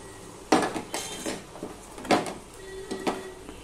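A spatula scrapes and knocks against a pan as sautéed vegetables are stirred, making several sharp metallic clanks at irregular intervals under a low background hum.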